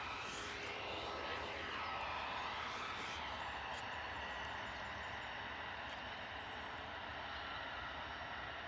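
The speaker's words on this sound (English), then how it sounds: "A320, EasyJet in from Nice." An EasyJet Airbus A320 jet arriving at Bristol Airport in wet, stormy weather gives a steady, distant broadband roar that stays fairly faint and even throughout.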